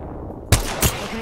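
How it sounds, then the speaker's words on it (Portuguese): Two sharp gunshots fired in the online battle royale game Apex Legends, a loud nearby crack followed shortly by a second, over a steady background hiss. "Estão tomando tiro de outro lado."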